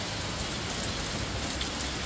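Hail hammers a house roof at midday after several hot days, a dense, steady, loud pelting that fills the whole stretch with no voices.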